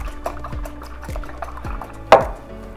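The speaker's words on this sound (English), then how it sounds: "Just gonna give those a good whisk." Four farm-raised, cage-free eggs are whisked in a bowl for apple Dutch baby pancake batter, giving steady, evenly spaced soft taps with one sharper clink near the end. The sound is close and moderately quiet.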